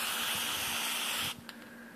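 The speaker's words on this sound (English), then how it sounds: "It'll foam up quite a bit when you spray it in here." CorrosionX spray foaming onto an RC electronic part such as an ESC, servo or receiver, a loud steady aerosol hiss lasting over a second before cutting off, then a few faint fizzing ticks as the foam settles.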